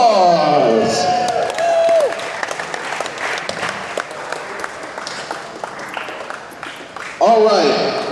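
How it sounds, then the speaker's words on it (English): An indoor wrestling crowd applauds and cheers after a heavyweight championship match, steady clapping with whoops over it, while a voice talks loudly at the start and again near the end. "give our winners a round of applause"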